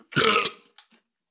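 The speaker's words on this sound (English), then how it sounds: "the force was so strong from the burp" A single loud, close burp after drinking soda, lasting about half a second, is followed by a faint short trailing gulp. Silence surrounds it and no one talks.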